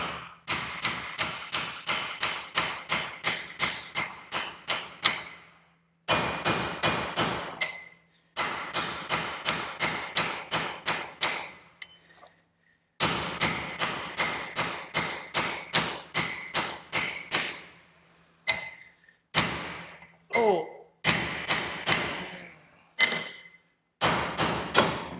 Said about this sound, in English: Need a bigger hammer.